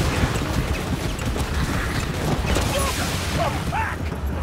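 A Ratling Gunner's rapid-fire gun in the video game Vermintide, a dense, continuous mechanical clatter that runs for the whole stretch with voices mixed in.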